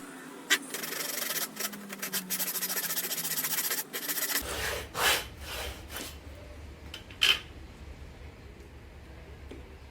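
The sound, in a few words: sawing a piece of wood by hand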